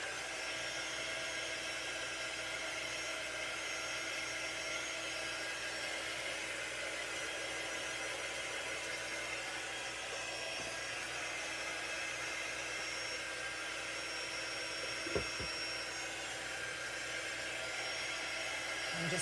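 A hair dryer runs steadily throughout, drying a craft project of homemade food wraps, as a constant close whooshing blast with one brief clunk near the end and no speech.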